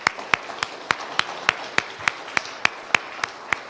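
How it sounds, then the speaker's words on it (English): Audience clapping at a church ceremony, heard as a steady rhythmic series of distinct claps with soft crowd applause beneath. "could I get another round of applause for Matthew?"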